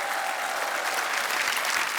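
Loud, steady applause from a studio audience at a comedy talk show, with dense clapping that holds for the whole stretch and sounds close and full.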